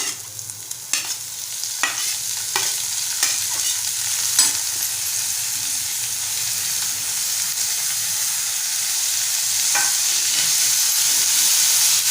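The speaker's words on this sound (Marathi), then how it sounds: "आता आपण बारीक चिरलेली मेथी घालून घेऊया।" Chopped fenugreek leaves with softened onion sizzling and frying in a pan, with a steady hiss and a string of sharp scraping stirs near the start, the sizzle building and staying loud to the end.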